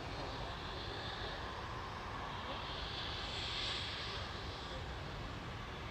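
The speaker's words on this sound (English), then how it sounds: "There goes EasyJet off to the left side of Crete." An EasyJet airliner climbs away on takeoff, its jet engines a continuous mid-distance rumble and hiss that peaks briefly in the middle before easing.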